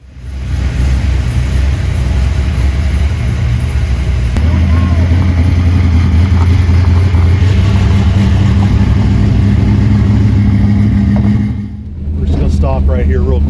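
Dodge Dart engine running loud and close with a strong low rumble, holding steady under faint voices, then briefly cutting out near the end before roaring back with a revving rise.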